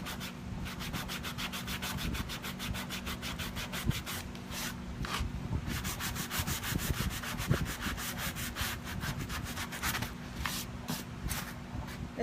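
A sign is sanded by hand with steady back-and-forth rubbing strokes, continuous and close, with a dense repeated scratchy rhythm and no talking.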